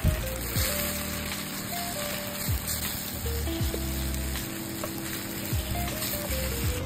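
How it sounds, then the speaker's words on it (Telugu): Steady sizzle of a bay leaf, thinly sliced onions and slit green chilies frying in hot oil, a close, continuous crackle with faint stirring and no voices. "బిర్యానీ ఆకు ఇంకా సన్నగా తరిగిన ఉల్లిపాయలు, మధ్యలోకి కట్ చేసిన పచ్చిమిర్చి వేసుకొని కాసేపు వేగిద్దాము."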